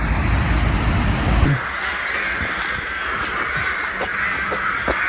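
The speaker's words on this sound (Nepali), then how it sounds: "पुरै कागहरू यो सब कागको घर" Crows caw and call in a park in Romania over a constant outdoor hum, with a low rumble at the start that soon drops away.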